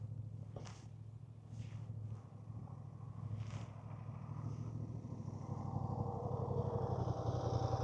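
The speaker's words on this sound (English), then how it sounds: "bring your bike around to here for me, Stuart." A motorcycle engine drones steadily throughout Mod 1 test training, rising slightly in level and pitch toward the end as the bike moves around. Faint higher wind noise passes over the low, continuous engine hum.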